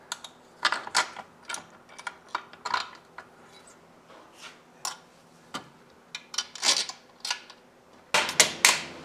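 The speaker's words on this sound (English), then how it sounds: "See if I can get this front bolt in." Fitting and tightening a front bolt on a Yamaha GT80 motorcycle: scattered metallic clicks, taps and scrapes of the bolt and tools, close and irregular, with a louder cluster of knocks at the end.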